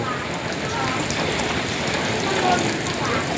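Rain pours in a windy storm near Tha Champa in Tha Uthen district, Nakhon Phanom, a dense, steady roar of drops and gusts that stays close and loud throughout.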